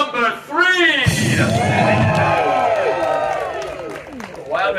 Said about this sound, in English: with your cheering and applause, let me know